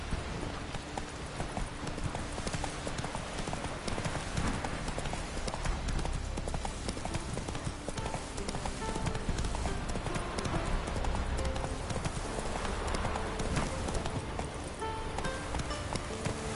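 Roach, the horse in The Witcher 3: Wild Hunt, gallops with a fast, steady clip-clop of hooves that runs the whole time over a dense bed of game sound.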